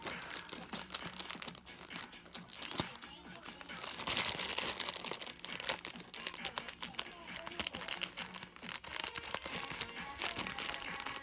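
Sakura Card Captor card packet being cut open with scissors, giving close, quiet crinkling and crunchy plastic rustles in irregular bursts, with a brief louder tearing crackle partway through.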